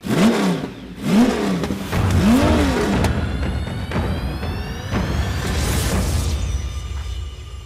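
An early Mitsubishi Colt GT engine blips its revs three times in quick succession, each rise and fall close and loud, then settles into a steady high-revving drone with a thin mechanical whine and no voices.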